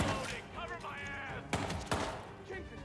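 Gunfire in the Hitman video game: a couple of sharp shots cracking out over busy game sound, with a voice talking over parts of it.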